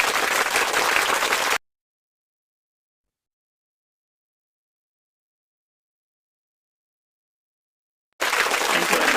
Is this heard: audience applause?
yes